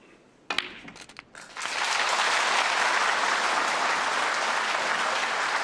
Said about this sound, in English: And that applause is well deserved